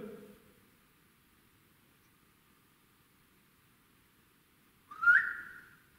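A single short rising whistle near the end, sounding somewhat distant, after a brief faint murmur at the start and a long stretch of quiet.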